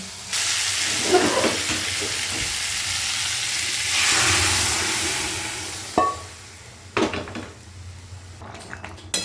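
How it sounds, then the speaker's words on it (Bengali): Spice masala fries in a pan for Bengali cholar dal, giving a loud, steady sizzling hiss with stirring. Later the frying fades, and sharp clinks of a utensil on the pan cut through. "মশলাটা একদিকে ভাজা হচ্ছে"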